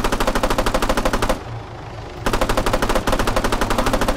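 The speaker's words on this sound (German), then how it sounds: "Julian wird hart beschossen." Rapid automatic gunfire in the Arma 3 video game comes in two long, evenly spaced bursts around a short pause, loud and close, with no talk.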